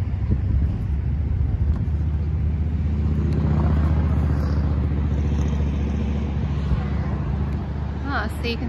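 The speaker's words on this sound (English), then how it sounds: "there's another jet boat coming in." A steady low engine drone with wind buffeting the microphone, continuous and fairly loud, as a jet boat approaches on the water near the Sir Adam Beck generating stations at Niagara Falls.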